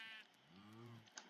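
A sheep bleats once in a Minecraft-style video game, a drawn-out, wavering call that stands alone at moderate loudness after a brief higher tone.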